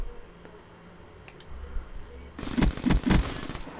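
Rapid gunfire erupts in a Black Ops 3 multiplayer match on the Redwood map, a loud close burst of several shots near the end after quieter background game noise.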